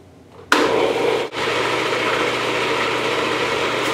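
A blender starts abruptly and blends chocolate mousse ingredients until creamy, giving a loud, steady motor whir with a brief dip early on before it runs on evenly.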